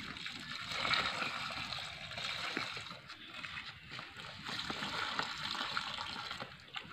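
Water splashes steadily over a young pulutan bonsai in a plantation garden, a continuous close spray with faint rustle and no voices.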